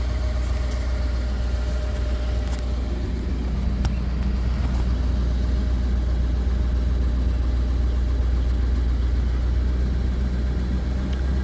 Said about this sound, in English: Hear it rev up.